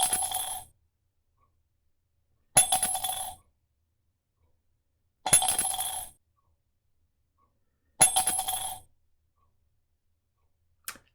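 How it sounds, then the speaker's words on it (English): Coins drop into a mug in four separate bright metallic clinking bursts spaced a few seconds apart, close and clear against silence, followed by a brief final tap. "How many coins did you hear being dropped into the mug?"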